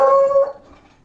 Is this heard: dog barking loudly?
yes